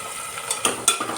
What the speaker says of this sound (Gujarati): ગુવાર મારો થોડોક ફ્રાય થઈ ગયો છે